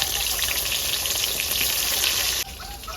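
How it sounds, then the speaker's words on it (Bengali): Eggplant slices fry in hot oil for a rustic village-style meal, giving a loud, steady crackling sizzle that drops slightly in level near the end. "এবার আমি এখানে বেগুনটা ভেজে দেবো"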